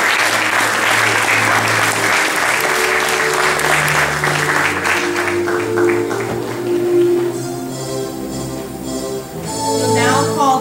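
Sustained, loud applause from an awards ceremony audience honoring a group of award recipients, steady clapping throughout with a brief dip near the end before swelling again.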